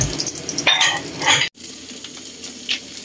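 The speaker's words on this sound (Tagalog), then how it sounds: "Prito naman ako ng tuyo." Dried fish sizzles and crackles in hot oil in a pan, with a brief clatter of utensils and a short cut in the sound.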